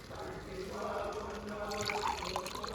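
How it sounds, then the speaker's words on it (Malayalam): Water poured from a vessel onto a newly planted sapling in a home garden, a short soft splashing trickle close by, fairly quiet. "ഇത് വെച്ച് വെള്ളം ഒഴിച്ചേ"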